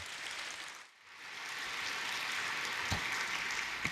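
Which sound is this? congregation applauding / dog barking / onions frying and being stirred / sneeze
congregation applauding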